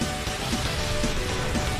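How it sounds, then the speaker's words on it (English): Steady rain in the Colosseum in the video game Pokémon Battle Revolution pours down in a dense, even hiss, with soft patters of drops hitting a surface throughout. "It's raining in the Colosseum again."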